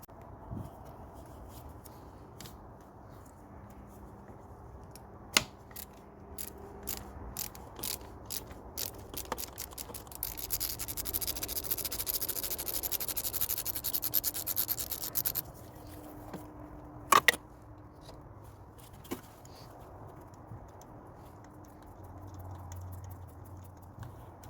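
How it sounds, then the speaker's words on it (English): A ratchet undoing a spark plug on a Mercedes C-Class W202 with an M112 V6 engine: a long run of close, rapid metallic clicking strokes, then a loud crack as the plug frees and a few scattered clicks. "So let's get a ratchet in there"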